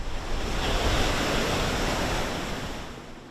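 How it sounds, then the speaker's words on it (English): Steady roar of unusually high ocean surf on the Central Coast, a broad rushing wash of breaking waves with some wind, continuous and fairly loud, slowly easing toward the end. "just to hear the ocean"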